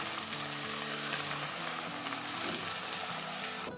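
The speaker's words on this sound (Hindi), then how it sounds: "तो अब ये डाल देंगे, 1 मिनट के लिए फ्राई करेंगे प्याज के साथ" Steady, close sizzling of garlic, ginger and green chili frying with onions in hot oil, continuous and fairly quiet, with no voices.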